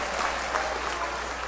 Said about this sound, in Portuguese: pode dar uma salva de palmas para Jesus, mas bem animada, com glória, com aleluia